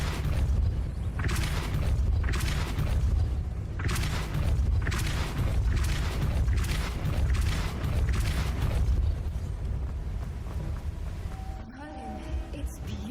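Spell effects in Hogwarts Legacy: a series of deep booming blasts from the Depulso force-push spell, repeating roughly every second or so over a low continuous game rumble, then settling into quieter ambience.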